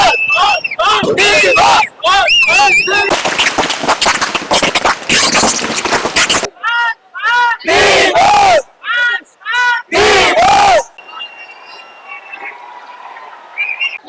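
Darshan fans roar, whoop and cheer in a packed cinema hall at the release of the Kannada film Devil, in loud dense bursts with screams and whistles, then a quieter murmuring stretch at the end.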